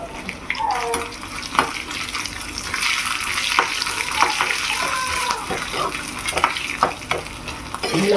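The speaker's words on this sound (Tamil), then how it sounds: "வத்தல், சுண்டை வத்தல், வெண்டிக்காய் வத்தல், கொத்தரங்காய் வத்தல் எல்லாத்தையும் வறுக்கணும்" Dried vegetables such as sundakkai, okra and cluster bean vathal fry in hot oil with a dense, continuous sizzle and occasional clinks of stirring, close and fairly loud, while a voice speaks intermittently over it.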